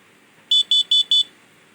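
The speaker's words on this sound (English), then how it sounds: "my LED will light up and my buzzer will sound." An Arduino alarm clock's buzzer sounds four quick, evenly spaced high-pitched beeps, loud and close against near silence.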